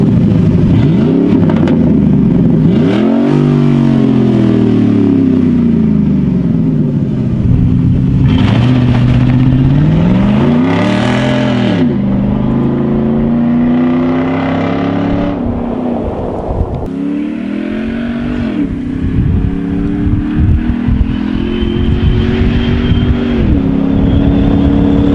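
A truck engine with a modified, louder exhaust revs repeatedly and heavily, its deep rumble rising and falling in long sweeps, very loud and close with no talking.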